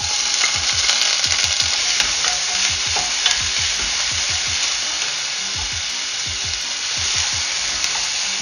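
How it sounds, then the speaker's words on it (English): Onions sizzle and crackle steadily in a hot pan, a loud continuous frying hiss with repeated soft scraping from stirring. "I'm going to start by frying our onions."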